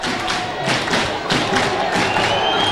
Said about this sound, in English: And the Bradford fans take up the clap again